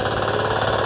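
A Firman FTI 2010DE mini four-wheel tractor engine runs steadily in a horticultural field, a loud, continuous near mechanical drone with no pauses or voices.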